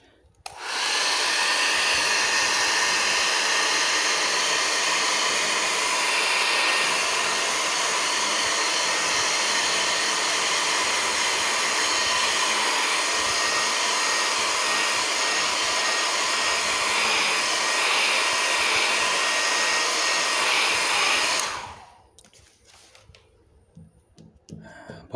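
A hair dryer used as a blower to dry paint roars loud and steady for about twenty seconds, then switches off, leaving faint quiet handling noise.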